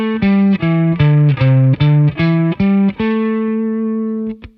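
An electric guitar plays a quick pentatonic scale run of single notes stepping down and back up, ending on a sustained ringing note.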